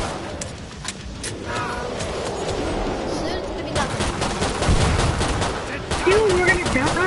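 Rapid gunfire against zombies in the Killing Floor game, bursts of shots crackling steadily with occasional louder pops, while players talk over the action.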